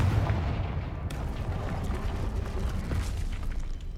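Confringo blasting spell firing in the Hogwarts Legacy video game, a loud continuous rumbling explosive burst with a sharper crack about a second in, filling the whole moment.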